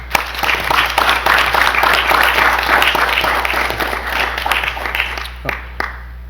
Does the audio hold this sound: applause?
yes